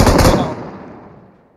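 A loud, close burst of gunfire in PUBG Mobile cracks out at the start, then rings and fades away over about a second.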